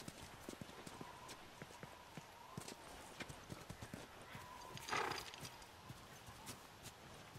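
Faint, steady clip-clop of horse hooves walking, with a brief snort or whinny near the middle, quiet and somewhat distant, from the video game The Last of Us Remastered.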